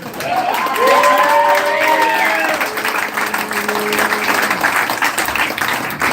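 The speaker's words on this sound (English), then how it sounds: "Clap it up for Cliff Ruler and his advanced class of mi" Comedy club audience breaking into sustained applause and cheering after a stand-up set ends, steady dense clapping with a few whoops rising over it, fairly close and loud throughout.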